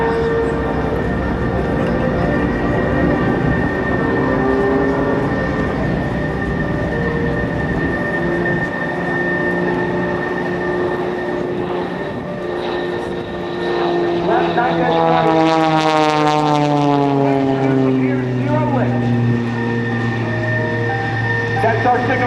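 Nancy Lynn's aerobatic airshow plane at NAS Oceana, a steady loud engine drone that swells as the aircraft sweeps past with a falling Doppler pitch, under a commentator's voice.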